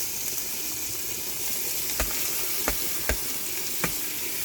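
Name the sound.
fish frying in spice paste on clay stove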